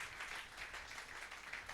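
A church congregation applauds in a steady, even wash of clapping, faint and distant, with no break across the short stretch.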